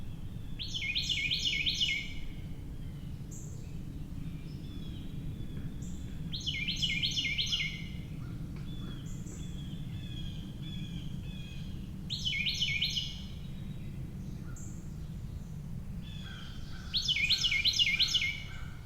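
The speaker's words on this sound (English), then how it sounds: "This is the song of the Carolina wren." A Carolina wren sings its loud rolling phrases four times, each about a second long and spaced several seconds apart, over a steady low background rumble.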